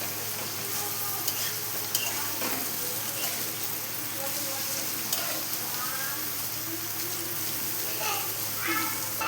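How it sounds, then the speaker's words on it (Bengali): Carrots sizzle in a frying pan as they are stirred and salted, a steady crackling fry broken by repeated scraping strokes of a spoon against the pan, with a soft voice talking in the background. "আবার একটু নেড়ে দিচ্ছি, একটু নুন দিলাম, দিয়ে আবার একটু নেড়ে দিচ্ছি।"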